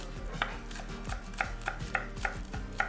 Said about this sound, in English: So I would chop up a little bit of green onions